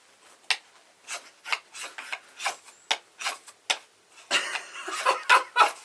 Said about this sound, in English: Now we sharpen the spine